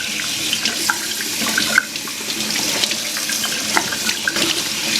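Tap water runs steadily into a sink as lake trout are rinsed, a close, continuous splashing gush with small clinks and bumps from handling.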